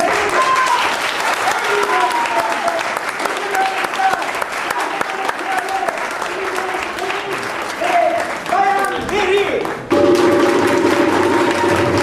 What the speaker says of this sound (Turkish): En güzel alkışlarda.